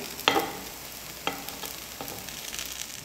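Snacks turned over in a pan on a medium flame crackle with a gentle steady sizzle, punctuated by a few distinct clinks and scrapes of the flipping utensil, close and without talk.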